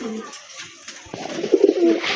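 A pair of healthy pigeons for sale coo in soft, throaty bursts, quiet at first and then rising into a louder rolling coo near the end, with faint background voices.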